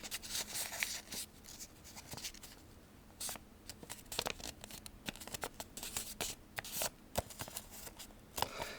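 A sheet of paper being creased and folded into an origami butterfly, giving soft, close, intermittent crinkles and scrapes at low volume, with no talking.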